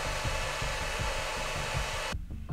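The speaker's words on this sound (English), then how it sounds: "You can hear the fan kicking on." An Ecoflow Delta Mini portable power station runs its cooling fan as a steady broadband whoosh with a rhythmic low thumping underneath, close by, and it cuts off abruptly near the end.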